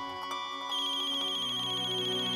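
A mobile phone's ringtone plays a steady, bright electronic melody, close and clear, sounding continuously with no talking over it.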